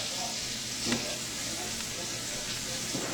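Saganaki cheese melting in a hot pan gives a continuous loud sizzle and bubbling hiss, close up, with a couple of soft clinks and no talking.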